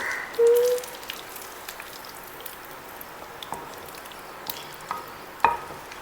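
A thick piece of fish with green pepper masala fries in a pan, giving a soft, steady, rain-like sizzle that carries throughout, with a few sharper clinks and taps.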